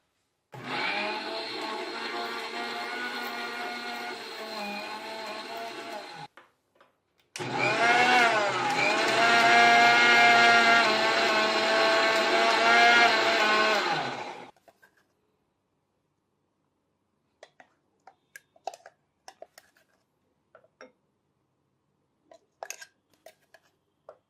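A mixer grinder whirs loudly in two long bursts with a short pause between, grinding mango leaves into paste, then stops, followed by scattered light clinks and taps.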